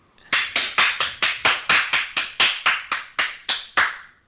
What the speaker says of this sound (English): I'm getting loud, sarcastic claps from Ella.